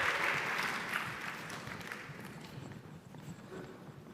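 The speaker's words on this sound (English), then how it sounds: "let's give Sarah a massive round of applause" Applause from a conference audience for a panel host at a business event on premium video, starting full and gradually thinning out over a few seconds.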